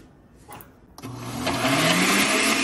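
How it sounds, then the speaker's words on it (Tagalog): A blender pureeing chopped herbal plant leaves and stems kicks on after a brief quiet start, its motor whirring loudly and steadily with a rising pitch as the blades churn through the greens. "Yung natirang chinap natin ng mga dahon at saka stems ng herbal plants, ilagay na lahat sa blender."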